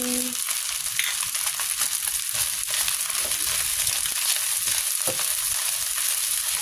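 Fried rice with chili sizzles in a pan, a steady close, crackling hiss of frying food with occasional scrapes of stirring and no talk.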